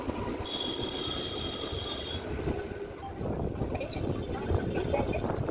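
A passenger train pulls out of Contai station on the Digha line with a low, steady rumble of wheels and carriage, mixed with wind buffeting the microphone and a faint whistle-like tone early on.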